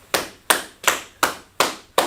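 A class clapping in unison, six sharp evenly spaced claps in a steady rhythm, close and clear with no talk.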